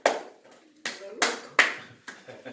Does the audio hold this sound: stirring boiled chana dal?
no